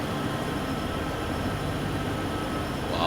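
A passing train on the adjacent track in Train Sim World 4, near a double-decker train, heard as a steady, loud broadband rumble and rail roar that holds level for the whole stretch.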